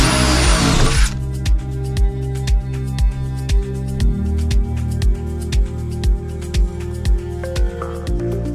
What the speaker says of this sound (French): je perce ensuite avec une mèche de 4 mm aux 4 coins